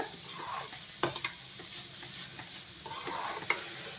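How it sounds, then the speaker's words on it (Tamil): Spatula stirring a carrot stir-fry with grated coconut in a pan, soft continuous sizzling with a few sharp scrapes and taps against the pan, close and without talk. "தேங்காய் துருவல் சேர்த்து நல்லா கலந்து விட்டுட்டு உடனே ஸ்டவ் ஆஃப் பண்ணிவிடுங்க"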